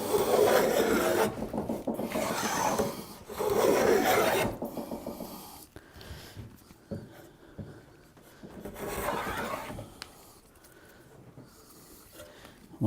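A hand plane rasps along the grain of a wooden board in two long, loud scraping strokes close by, followed by quieter, fainter passes with pauses between.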